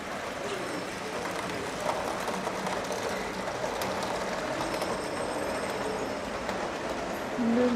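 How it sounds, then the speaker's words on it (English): A train rolls past at a station, a steady broad rumble with faint rail clatter and a thin squeal, sustained throughout at moderate distance. "And there goes the train."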